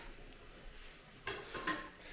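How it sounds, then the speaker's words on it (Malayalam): A deep kitchen bowl is fetched and set down, giving a couple of faint, close clinks and knocks after a quiet stretch, no talking. "ഒരു കുഴിയൻ പാത്രം പപ്പ ദാ പോയി ഒരു കുഴിയൻ പാത്രം എടുത്തുകൊണ്ട് വരുന്നുണ്ട്"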